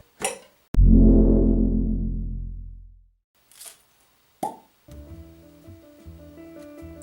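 The cork stopper pulls from a bottle of Connemara peated single malt Irish whiskey with a sharp pop, followed by a long resonant ring fading over two seconds, then small taps and a soft clink up close.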